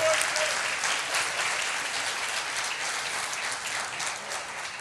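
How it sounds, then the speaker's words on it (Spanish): Audience applause at a church gathering, a steady dense wash of many hands clapping at moderate level that holds evenly without a break for several seconds. "Vamos a darle un aplauso a Moisés"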